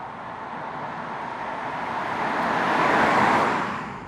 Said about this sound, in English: Typical 3-cylinder sound. The 3-cylinders sound actually sportier than the 4-cylinders.